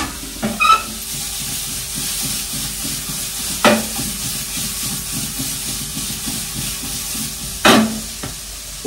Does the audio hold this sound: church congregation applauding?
no